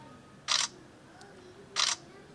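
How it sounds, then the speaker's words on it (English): Two crisp camera shutter clicks from a Samsung Galaxy A03s phone, about a second apart, each short and clear over a quiet background. "go to turn on this button shutter sound, then shutter sound will appear"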